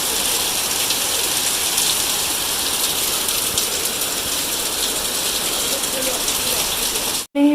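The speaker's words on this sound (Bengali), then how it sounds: "একটু পরে রাস্তা দিয়ে নদী হয়ে যাবে, যে জোরে বৃষ্টি হচ্ছে।" Heavy rain pours steadily on a street beside a gate in early morning, a dense, constant hiss close by that holds the same loudness throughout and cuts off abruptly near the end.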